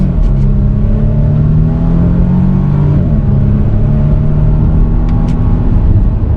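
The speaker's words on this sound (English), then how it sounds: "it definitely accelerates pretty quick for a larger SUV" A 2022 Volvo XC90 T6 Momentum SUV accelerates hard in manual mode, its engine droning steadily up through the revs with a brief dip at a gear change, loud and continuous from start to finish.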